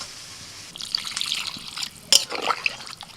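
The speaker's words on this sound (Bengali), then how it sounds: "ভালো করে কষিয়ে নিয়ে এবার আমি জল দিয়ে দিচ্ছি।" Water goes into a pan of fried masala and potatoes for a Bengali egg curry, a short splashing pour with trickling and a burst of bubbling sizzle, close and moderately loud, with no voices.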